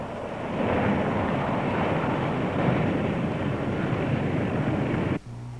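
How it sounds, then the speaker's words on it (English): A light airplane, a Commander, lands on a runway. A steady broadband rumble of engine and wind holds for about five seconds, then cuts off sharply to a quieter low hum as the power comes off at touchdown. "Ease off the power till the main gear touches the runway."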